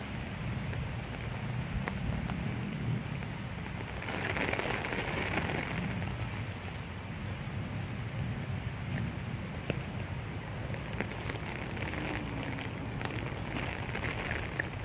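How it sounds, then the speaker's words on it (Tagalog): Steady, heavy storm rain pours down with a dense continuous hiss, gusts of wind rushing through, and no voices. "O, lumakas na mga ulan."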